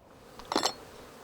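A honey bee buzzes briefly close to the microphone, a short bright drone of about a quarter second rising out of quiet background.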